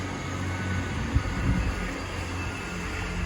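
A train rumbles past outdoors in a low, steady, moderately distant drone that lasts the whole stretch, with no talking.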